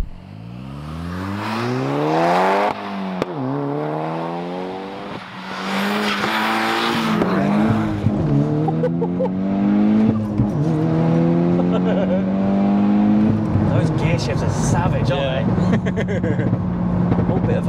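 A manual MK6 Golf R tuned to 470bhp revs hard through repeated rising gear pulls, loud and close, with popping overrun crackle between shifts and voices talking over it.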